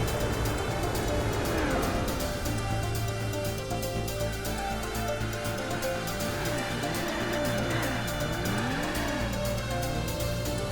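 A Nissan Skyline drifts in the Gran Turismo 4 video game, its tires squealing in long, wavering screeches over a loud, steady engine drone that runs through the whole stretch.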